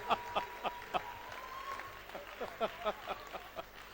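At a 2019 career fair, sparse, distinct claps ring out in an uneven rhythm, a handful of people applauding nearby against a quiet room.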